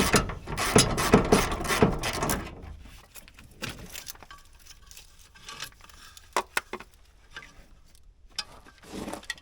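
Screwdriver work on the side of a DIY dump truck build, with a dense burst of ratcheting, clicking mechanical sounds at first, then sparse clicks and small knocks, close up and with no one talking.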